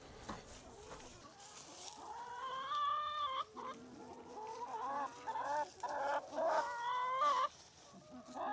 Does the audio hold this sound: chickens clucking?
yes